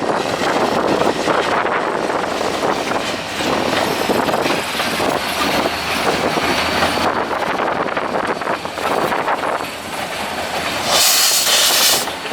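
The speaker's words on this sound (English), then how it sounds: "today, we get the Stillwater Central switching train with 4163 leading" Stillwater Central short-line switching train led by locomotive 4163 rolls past in Oklahoma City, a steady loud rumble of wheels and railcars with clickety-clack and hiss, ending with a burst of air noise.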